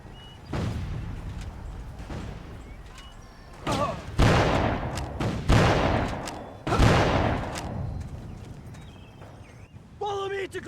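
Video game Civil War battle gunfire from the 1861 North and South campaign: several loud, separate volleys of musket fire with crackling bursts, spaced a second or two apart over a steady background din.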